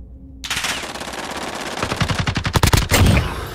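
Gunfire from a shotgun in a Modern Warfare Gun Game round: loud, close shots begin after a brief quiet start, then come as rapid repeated blasts that grow denser and heavier toward the end.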